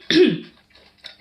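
A single short, sharp cough close to the microphone, followed by quiet with a faint breathy sound at the end.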